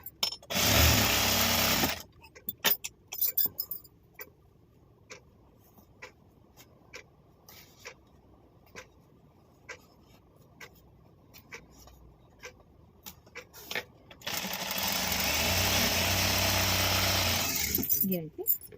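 Sewing machine stitching folded fabric for a festival return gift, two loud steady whirring runs at the start and end with quieter clicks and handling noises between them.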